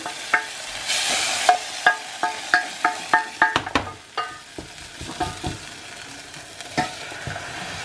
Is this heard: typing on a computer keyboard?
no